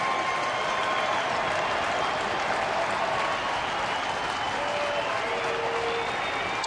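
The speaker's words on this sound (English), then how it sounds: "And now the crowd coming to its feet." Baseball crowd at a Cleveland vs. Detroit game rising and applauding, a dense, steady wash of clapping and cheering that fills the stadium at full volume throughout, with faint whistles riding on top.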